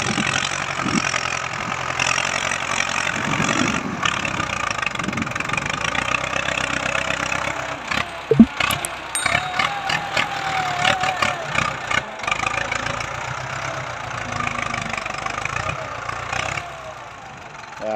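A Ford 5000 farm tractor engine idling loud and close, a steady mid-pitched diesel rumble with a few sharp knocks and clanks midway; someone speaks briefly over it.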